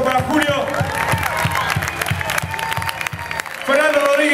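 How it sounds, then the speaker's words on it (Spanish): An audience claps at a blues concert while a voice talks over the applause, with rhythmic low beats running through and a steady crowd wash underneath. "Fuerte el aplauso para Julio."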